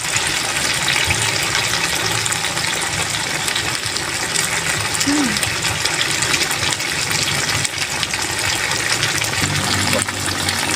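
A small amount of water is poured into a pot of duck caldereta with tomato paste and coconut milk, cooking outdoors; a steady close splashing and trickling runs continuously, with no talk over it.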